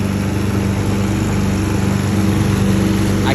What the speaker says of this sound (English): I come back through with our push mower